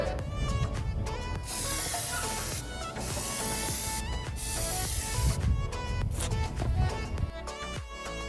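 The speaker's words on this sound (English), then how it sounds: "Make sure to always do a test spray first." Plasti Dip sprays from an aerosol can in several hissing bursts of varying length, separated by brief pauses, with faint background sound underneath.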